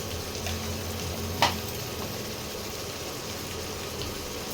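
Lamb curry with chili powder and turmeric sizzles steadily in a pan, close and continuous, with one brief clink of a utensil partway through and no talking.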